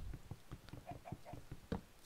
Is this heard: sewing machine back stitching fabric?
no